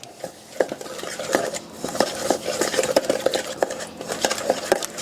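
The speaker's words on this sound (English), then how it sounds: "Just going to give that a nice mix there." Smoked paprika being mixed into a sauce for honey sriracha chicken legs, heard as a busy run of spoon clinks and scrapes against a bowl, fairly loud and close, with no talk over it.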